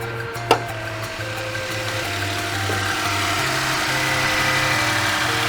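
A used Genesis EQ900 3.8 engine idles with a steady low hum and faint mechanical whine, preceded by a single sharp click near the start.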